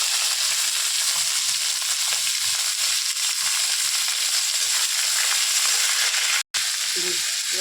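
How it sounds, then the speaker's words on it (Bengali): Beans, carrot, potato, onion and curry leaves fry in hot oil, giving a loud, steady close sizzle that briefly cuts out near the end before resuming with faint stirring. "সবজিগুলো একটু ভেজে নিয়েছি"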